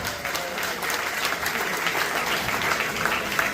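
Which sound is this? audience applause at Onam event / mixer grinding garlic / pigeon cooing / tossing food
audience applause at Onam event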